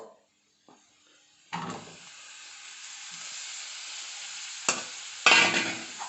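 Onions fry and get stirred in a pan for chicken curry, a steady close sizzle with several louder bursts of stirring scrapes, no talk.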